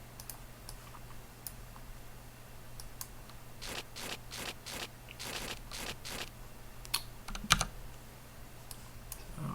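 Keys on a computer keyboard are tapped in quick bursts while shortcuts are entered during play in a dungeon game, with close, quiet clicks and a brief cluster of faster typing mid-way.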